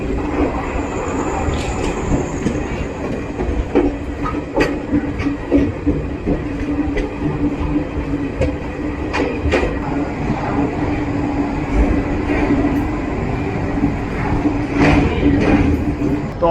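The Garib Rath Express runs out of Lucknow Junction at night with a continuous loud rolling rumble and steady hum, and light rhythmic clicks and knocks from the carriage come through over the whole stretch.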